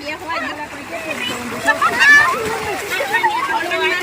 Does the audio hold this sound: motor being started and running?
no